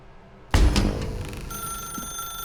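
A desk telephone rings in the Stanley Parable office, the video game's bell tone striking sharply after half a second of near silence and then ringing on steadily with a bright, sustained electronic chime and no voices.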